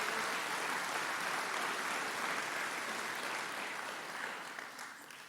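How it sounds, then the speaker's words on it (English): Steady applause from a crowd at a sports hall of fame induction ceremony, a dense wash of clapping that gradually fades toward the end. "Let's have a round of applause for those guys that came tonight."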